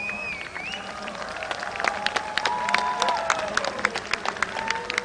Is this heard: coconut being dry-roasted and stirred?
no